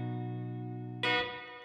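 An electric guitar played with a clean tone through a fuzz pedal rings out as a sustained chord, then a fresh bright strum cuts in and decays, alone and close.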